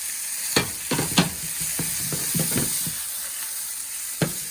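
Chopped cabbage tossed into chicken chow mein frying in a pan, with a steady low sizzle and several scraping stirs of a spatula at irregular intervals, close by and with no voices.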